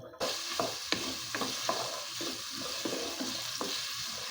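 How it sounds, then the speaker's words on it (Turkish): Carrots sizzle steadily as they sauté over low heat in a hot pot, with occasional scraping and stirring clatters, close and continuous. "Evet havuçlarımız şöyle kavrulmaya başladı."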